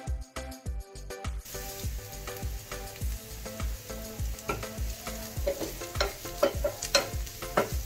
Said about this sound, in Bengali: তেলটা ভালো মতো গরম হয়ে গেলে তাতে দিয়ে দেব আগে থেকে কুচিয়ে রাখা পেঁয়াজ ও কাঁচা লঙ্কাগুলোকে।